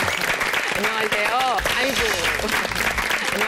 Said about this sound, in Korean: 여러분 박수로 맞습니다.